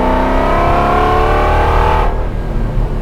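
A Ford GT40 race car's engine revs hard and close, its note climbing steadily for about two seconds before cutting off sharply. No one speaks.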